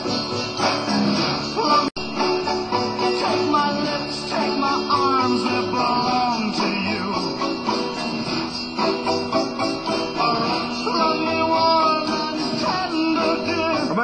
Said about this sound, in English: At number 19, it's called Love Me Warm and Tender.